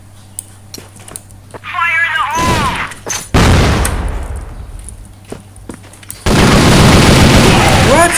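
Gunfire in the first-person shooter game CrossFire comes as several loud, sharp bursts, with harsh noisy stretches and other game effects around them, and a player talks in between.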